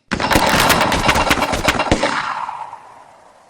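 Assault gunfire in the Lock 'n Load Tactical game: a loud, rapid burst of automatic weapon fire lasting about two seconds, then a fading echo tail.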